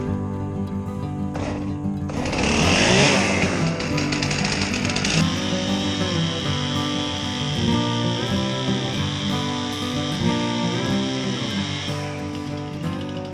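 A chainsaw cutting down trees to clear ground for an apiary, a loud, close engine roar that rises into a harsh buzzing cut and then keeps running at a rough, fluctuating pitch.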